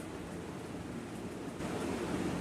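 A washing machine's drain motor runs with a continuous broadband rushing hum close by, the steady noise rising slightly partway through, with no talk.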